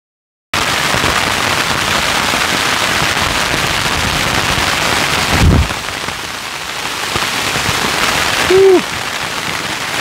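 Heavy rain mixed with sleet and hail pours down steadily outdoors on a backpacking trip at Pictured Rocks National Lakeshore, a dense, loud hiss that fills the whole scene, with a couple of brief sharper knocks and a short tonal squeak near the end.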